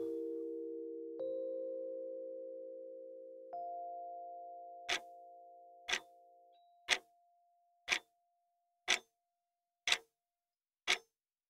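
A clock ticks in a quiet room, starting after a few sustained chime tones fade out, then seven evenly spaced, crisp ticks about one second apart, close and clear with nothing else present.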